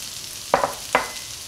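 Cabbage, capsicum and spring onion are frying for egg fried rice: a steady sizzle with a few quick scraping stirs in the pan, close and fairly loud.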